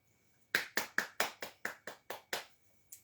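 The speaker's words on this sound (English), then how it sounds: "That's why I clapped." A person claps hands during a French class, about nine sharp, evenly spaced claps in quick succession and a single softer clap after a short pause, close and alone in a quiet room.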